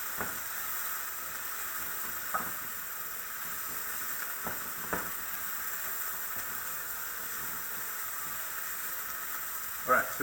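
Onions sizzle softly in a pan, a steady low hiss of frying with a few faint clicks and knocks over it, quiet and continuous throughout.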